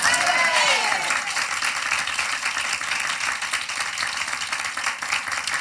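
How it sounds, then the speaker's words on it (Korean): A church congregation claps together during a Sunday morning worship service marking the church's tenth anniversary, a loud, dense and even wash of clapping from a packed room, with voices mixed in. "지금까지 인도하신 우리 하나님께 박수로 영광 돌리겠습니다."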